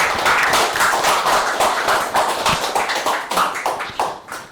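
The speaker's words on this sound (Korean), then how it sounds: "교수님 큰 박수로 환영해 주시면 감사하겠습니다." A lecture audience at a forum claps steadily, a dense, continuous round of applause welcoming a guest speaker, loud and close with no talking over it.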